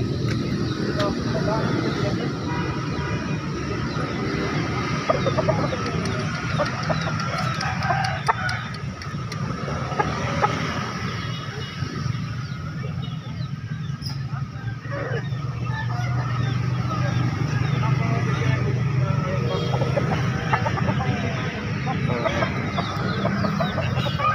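Many chickens cluck and a rooster crows amid a busy, crowded poultry market din at Pasar Daya in Makassar, Indonesia, with people talking throughout in the background.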